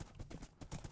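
Horse hooves clip-clop in Minecraft, a quick run of hollow hoof beats at a steady trotting rhythm, close and fairly faint, with no talking.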